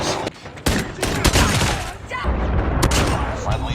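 Rapid gunfire bursts and booming impacts from a first-person shooter video game where a pistol is being fired, dense and loud throughout, with game sounds and excited talk mixed in.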